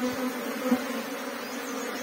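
Apis cerana honeybees buzzing at the entrance of a log hive, a steady close drone of many wings with no speech.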